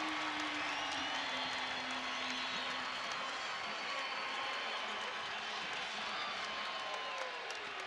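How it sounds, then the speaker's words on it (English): Basketball arena crowd at a Utah State at Boise State college game, cheering in a steady, loud, unbroken roar with no pauses. "I don't think I've seen a crowd get so excited to get within 13"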